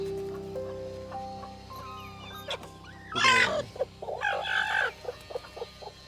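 Chickens cluck close by in short bursts, with a louder squawking flurry midway, amid quiet farmyard background where hens are brooding eggs.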